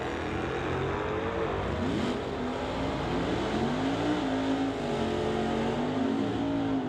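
Drag race between a Cutlass and a 2020 Ford GT500 Mustang at Mission Raceway, a continuous loud engine roar with rising and falling pitch as the cars accelerate down the strip, with no talk over it.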